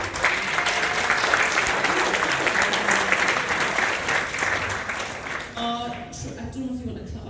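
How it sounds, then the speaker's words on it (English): Sustained applause from a dinner crowd at a Labour Party fundraising dinner fills the room, steady and fairly loud, thinning slightly toward the end as a few voices and a brief tone emerge. "I don't know if you want to clap after every single"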